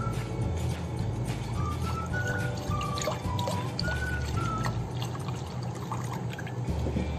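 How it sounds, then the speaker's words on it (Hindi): Milk is poured into a bowl while making fruit custard. A steady, trickling pour with light splashy drips plays over a low kitchen hum, close and fairly quiet. "जो हमने दूध बचा के रखा हुआ था उसको हम डालेंगे इधर बाउल के अंदर।"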